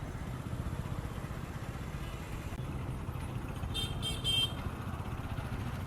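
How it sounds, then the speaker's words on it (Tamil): Heavy city traffic in Chennai heard from a motorbike, a steady low rumble of engines and passing vehicles with a short burst of horn honking toward the end. "பார்த்தா இருக்கிறது இவ்வளோ டிராஃபிக்கு"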